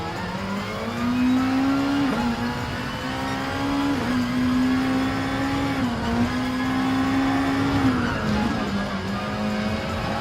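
A GT3 race car engine in the video game Gran Turismo Sport holds a loud, steady high-revving tone, dipping briefly at gear changes every couple of seconds, with faint tire noise beneath.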